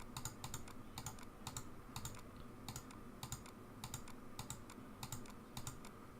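Mouse clicks tapping quickly through a 1997 McDonald's simulator game running in Internet Explorer, with clusters of sharp clicks coming in regular bursts over a faint steady background hum.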